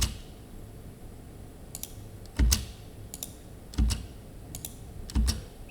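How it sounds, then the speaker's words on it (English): A computer keyboard's spacebar is struck three times in a slow, regular rhythm, each press a distinct, close clack, with softer mouse or key clicks in between. "Just keep hitting spacebar and pick each one of them individually."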